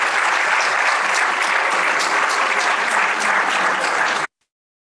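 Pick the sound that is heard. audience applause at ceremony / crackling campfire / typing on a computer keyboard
audience applause at ceremony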